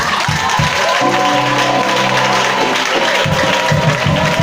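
A church congregation claps and cheers in praise of God, a steady wash of applause and crowd noise throughout, with a few sustained tones sounding underneath.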